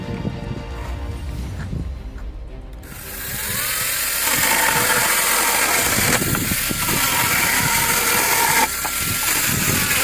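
A GTM CS18/127BL cordless saw cuts steadily, its motor rising to a sustained loud whine with a grinding, ratcheting edge that carries on without pause, no talk.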